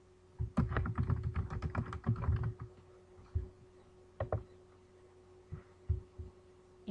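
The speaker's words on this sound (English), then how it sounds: "In the search box, we need to type interpreting plates." Typing on a computer keyboard in a search box, a quick run of close keystrokes over the first few seconds followed by a few scattered, isolated presses, with a steady low hum underneath.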